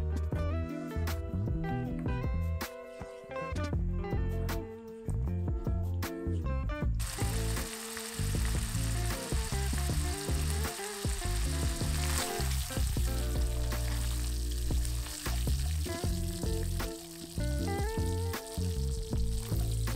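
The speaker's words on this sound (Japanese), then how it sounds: "しっかりと油で加熱してペーストの香りを引き立たせます。" Homemade Thai red curry paste fries in oil, with a steady close sizzle and occasional stirring scrapes running under loud background music throughout.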